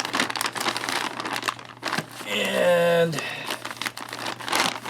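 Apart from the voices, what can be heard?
tearing open an Estonian MRE ration bag at the tear notches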